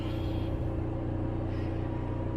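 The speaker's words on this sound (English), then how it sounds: "And you can hear the generator running in the background." A generator's steady low mechanical rumble drones on without a break, a constant engine-like hum with faint hiss above it and no voices.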